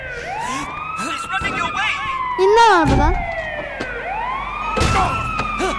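A loud wailing police car siren in a video game rises and falls repeatedly, with a voice briefly speaking over it amid game sound effects.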